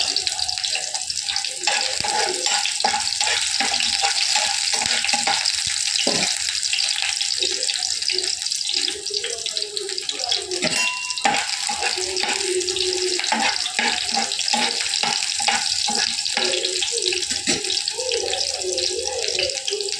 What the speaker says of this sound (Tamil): இப்போ வெங்காயத்தை சேர்க்கணும். நல்லா வெங்காயம் வதங்கணும்.